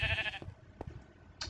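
A sheep bleats in a video game, a short burst at the start followed by a brief blip and another short call near the end, set against low background game sound.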